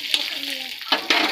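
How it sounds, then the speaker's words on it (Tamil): Tamarind sautés in a pan with garlic and green chillies, giving a short, close burst of sizzling with a couple of sharp stirring scrapes. "இப்போது புளி, இந்த புளியும் நம்ம வதக்கி எடுத்துக்கலாங்க."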